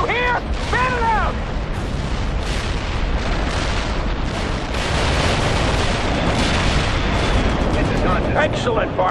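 Artillery fire support in the video game World in Conflict: a dense, continuous barrage of booms and blasts rumbles throughout, with brief whistling tones near the start.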